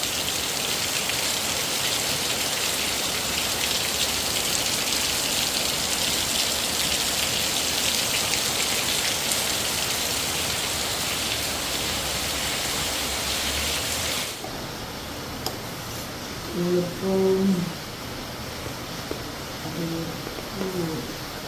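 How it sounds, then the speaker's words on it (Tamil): Heavy rain pouring down in Jaffna, a dense, loud, continuous hiss that eases somewhat partway through, with a voice briefly heard near the end. "செம மழை பெய்யுது"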